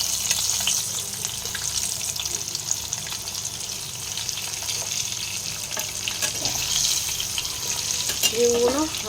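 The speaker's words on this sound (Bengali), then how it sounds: "ডিমগুলো ভালো করে ফ্রাই করে নিই।" Hard-boiled eggs fry in hot oil for an egg curry, giving a steady, close sizzle and crackle that runs through the whole stretch, with a few light clinks from a utensil near the end and no talk.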